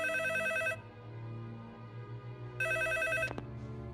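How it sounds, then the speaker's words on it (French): Telephone bell ringing loudly in a French horror film, two bursts of electronic trilling separated by a pause, with a low hum underneath. "Alors pourquoi le téléphone sonne?"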